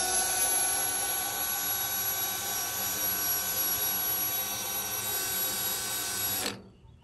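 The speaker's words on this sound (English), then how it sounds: "we're gonna try to drill some holes in here for drainage. This is metal" A power drill bores drainage holes through the metal bed of a wheelbarrow, a loud continuous high whine and grind that runs steadily for several seconds before cutting off abruptly.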